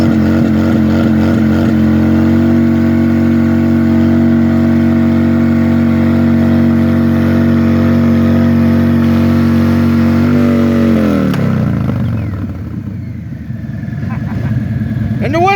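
At a Harley-Davidson dealer event, a motorcycle doing a tire burnout roars loud and close with a long, steady high-rev howl, then the engine note falls away near the end as the tire gives out, with crowd noise behind it.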